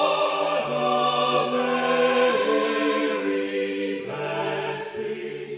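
A classical choir of sopranos, altos, tenors and basses generated in Ace Studio sings sustained chords that shift slowly, full and smooth, with no other sound.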